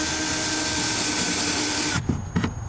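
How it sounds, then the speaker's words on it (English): A power drill drives screws down through the back into the side walls of a simple three-chamber bat house; steady close whirring for two seconds, then two short bursts as the screw seats. "We're putting 4 screws across the back down into the side walls"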